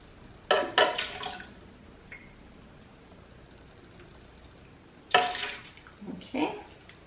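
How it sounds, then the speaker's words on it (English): Lime juice poured into a blender for a frozen strawberry margarita, heard as a few short, close splashing bursts separated by quiet pauses. "Then we're going to do 4 ounces of lime juice."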